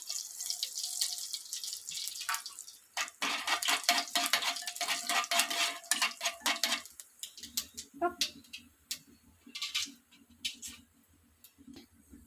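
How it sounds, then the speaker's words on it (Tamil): Dense, crackling sizzle of mustard seeds popping in a little hot oil while tempering for curd rice, loud and close, with scattered sharp pops and faint clatter toward the end. "கொஞ்சமாக எண்ணெய் விட்டு இப்போ கடுகு போட்டுக்கலாம்"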